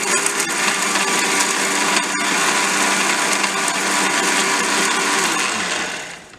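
An electric mixer grinder grinding whole spices for garam masala, a loud steady high whirring drone that runs unbroken for several seconds before winding down at the end.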